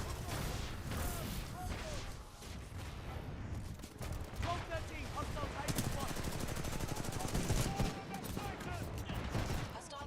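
Rapid bursts of gunfire from a gun in the PC game Titanfall 2, loud and fairly continuous, with machine-gun-like rattles and impacts running throughout.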